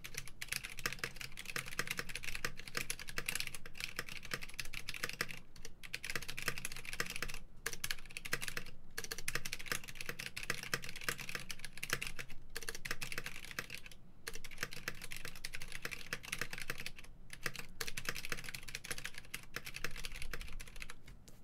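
Fast typing on a Top Clack mechanical keyboard: dense, rapid clacking keystrokes close up and fairly quiet, a continuous run broken by a few brief pauses, with no talk.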